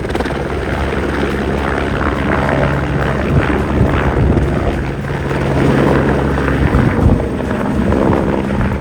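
Strong wind roars steadily against the microphone on the Everest Three Passes trek, a low, buffeting rumble with gusts swelling and easing throughout.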